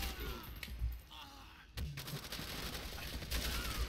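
Type 99 rifle fire in Call of Duty: World at War, a burst of gunfire crackling amid ongoing battle noise, with a sharp shot near the middle and continuous combat din throughout.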